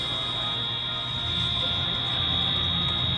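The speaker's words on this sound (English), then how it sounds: "Is that a fire alarm?" A fire alarm buzzer drones steadily and loudly at one high pitch, continuous and unbroken over low background rumble.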